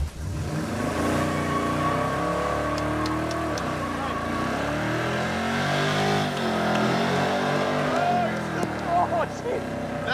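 A 1968 Dodge Charger with a 440ci V-8 accelerating on gravel, engine rising and falling through revs over crunching stones, with people talking over it.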